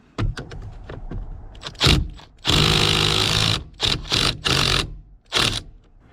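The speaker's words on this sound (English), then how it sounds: "Now we're going to break this bolt loose here. It's a 15mm" A wrench works on a 15mm steering wheel bolt of a 1995 Ford Club Wagon with a wood grain wheel, giving a series of close, loud ratcheting clicks and grinding bursts separated by short pauses.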